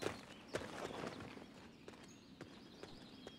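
A horse gallops in the video game Dynasty Warriors 9, irregular hoof clip-clops over a steady game background with faint ambient noise.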